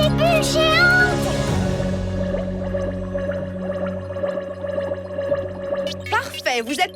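Giant bubbles gurgle loudly in a cartoon, a busy bubbling, burbling wash with rising squeaky tones at the start and again near the end, layered over music and voices.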